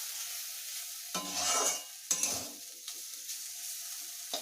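Cut potatoes frying in a pan with turmeric for chowmein: a soft, steady sizzle broken by two louder bursts of stirring and scraping, then quieter sizzling with small clicks.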